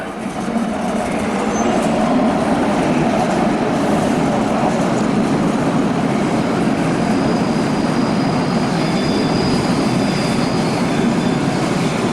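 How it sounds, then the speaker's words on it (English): A Cologne S-Bahn commuter train rumbles steadily past nearby, a continuous loud roar of wheels and motors with faint high squeals, no voices. "there was one of Cologne's S-Bahn trains"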